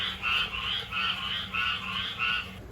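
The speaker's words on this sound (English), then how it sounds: "these hurricane frogs are really loud" Hurricane frogs croak loudly and close by in a steady series of about seven pulsing calls, each rising and falling in a regular rhythm, with no voices.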